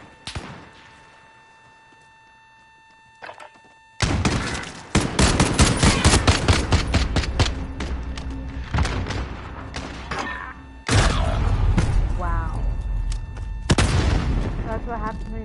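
Gunfire rips through a Call of Duty Modern Warfare multiplayer match: after a quiet start with a couple of isolated shots, rapid automatic bursts and heavy booms erupt in dense, loud volleys with brief gaps between them, and voices call out amid the shooting.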